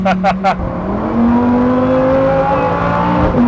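A Lamborghini Huracán STO engine revving hard while being driven, a loud rising and sustained roar close by, preceded by three quick blips and mixed with a voice.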